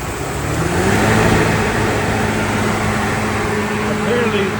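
A 2003 Chevy Trailblazer idles with engine speed raised, a steady low motor hum joined by the whir of the engine cooling fan spinning up, continuous and close.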